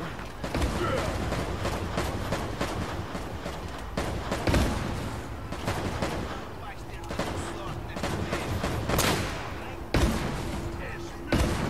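Sharp gunshots ring out at irregular intervals amid mechanical clanks and game ambience in Uncharted: Drake's Fortune, with a person talking faintly in the background.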